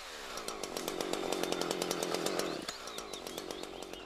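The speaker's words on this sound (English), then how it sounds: "Saw about one-third of the way through the trunk or until it starts to pinch the bar." Chainsaw cutting into a tree trunk during limbing, a loud steady high-revving whine with a rapid chain rattle for about two and a half seconds, then the engine drops to a lower idle-like burble, with no talk.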